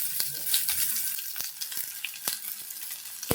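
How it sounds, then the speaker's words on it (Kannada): Onion, garlic and tomato frying in hot oil in a pan: a steady close sizzle with light stirring clicks, no voices. "ಪ್ಯಾನ್ ಇಟ್ಟಿದ್ದೀನಿ, ಎಣ್ಣೆ ಕಾಯ್ತಾ ಇದೆ."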